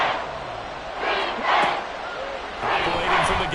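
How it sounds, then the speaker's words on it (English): A football stadium crowd roars in swelling waves on a third-and-inches play, trying to force a false start; the noise builds in loud surges over a broadcast commentator's voice. "this crowd trying to force a false start here."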